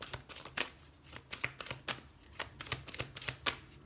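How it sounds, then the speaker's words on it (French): Tarot cards riffle and slap down in a rapid, irregular run of crisp papery flicks and taps, close and fairly quiet, with no talking. "allez, on va mettre une carte là-dessus"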